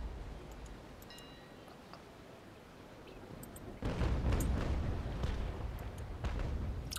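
Naval cannon fire from a sailing warship battle in Naval Action, with chain shot tearing into sails: a sudden heavy rumbling burst of booms and crackling impacts that stays loud and dense, following quieter ambient wind and sea noise.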